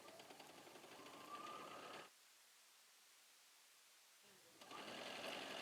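A sewing machine stitching a seam runs in two bursts of fast mechanical whirring, separated by a quiet pause of about two seconds, heard close up.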